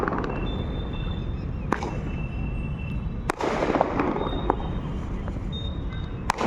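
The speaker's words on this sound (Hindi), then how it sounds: "मैं वीडियो बना रहा था, उतने में ही लोग यहाँ आतिशबाजी भी शुरू कर दिए।" Firecrackers and fireworks crackle and pop repeatedly in the distance during Diwali celebrations, sounding as scattered sharp bursts over a steady background hiss.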